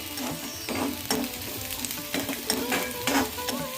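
Chopped spring onion sizzles and fries in a pan, stirred in repeated scraping strokes over a steady close hiss, with no talking.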